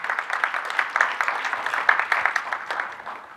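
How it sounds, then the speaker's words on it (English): A small audience at a school advisory board meeting claps for the newly joined school board members, the applause moderately loud and steady for a few seconds before starting to fade. "Let's give them a round of applause who are joining."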